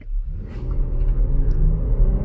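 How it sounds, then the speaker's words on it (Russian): A Jeep Grand Cherokee Trailhawk pulls away hard from a standstill on a straight road, its engine rumble rising in a low, strong drone heard from inside the cabin, steady and loud with no talk. "И срывается поинтереснее тачка, и звук совсем другой стал, и циферки побежали."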